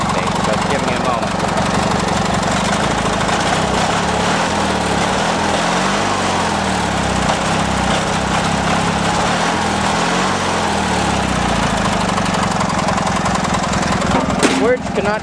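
An MTD990 lawn tractor engine runs steadily and loudly throughout, its throttle being raised for some revs, with a voice speaking over the drone.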